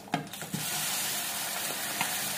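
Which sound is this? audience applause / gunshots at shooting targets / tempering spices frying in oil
tempering spices frying in oil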